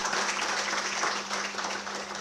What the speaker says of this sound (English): Let's clap for him and all the entire team.